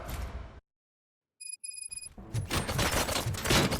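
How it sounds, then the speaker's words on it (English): Gunfire from the video game RoboCop: Rogue City: a burst of rapid automatic shots rings out, a brief silence follows with faint electronic beeps, then a loud sustained volley of fusillade fire. "Gunshots? What's going on?"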